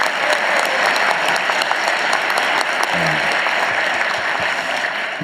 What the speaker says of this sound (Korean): 박수라도 한번 주십시오